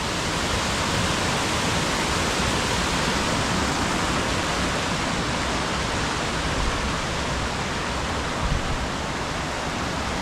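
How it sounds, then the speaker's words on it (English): The Cavern Cascade waterfall on the Hafod Estate roars in a constant, dense rush of falling water, steady and close, with no voices. "More amazing waterfalls."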